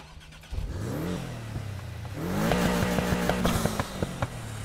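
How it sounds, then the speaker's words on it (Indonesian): Car exhaust revving in the racing game Need for Speed Heat: a steady engine drone climbs and falls through several sharp throttle blips, growing louder and busier in the second half with rapid, crackling rev pulses. "Exhaust sound."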